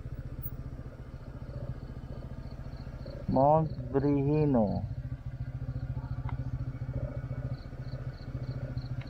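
Motorcycle engines idling at Mount Brihino, a steady close rumble running throughout, with a person speaking briefly over it.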